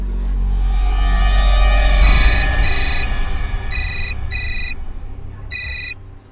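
A telephone ringtone plays in a Hindi crime drama scene, sounding in several short bursts of bright electronic tones over a low background hum, fairly loud and without talk.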